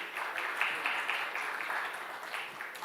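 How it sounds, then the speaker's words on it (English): Audience applause at a dairy and animal disease management conference, a steady wash of many hands clapping at moderate distance, continuous and even for the whole stretch. "A big round of applause for Dr."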